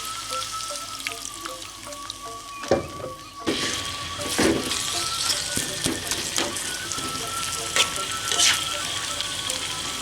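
Chicken for Balinese lawar ayam simmering and sizzling in a pan after water has been added, a steady bubbling hiss with scattered sharper crackles and pops throughout, no voices.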